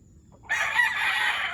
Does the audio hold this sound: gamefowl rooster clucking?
yes